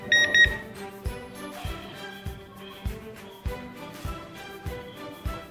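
An airport walk-through metal detector alarm sounds as a repeating electronic tone in a steady rhythm, each cycle with a low thump and a brighter beep, close and moderately loud.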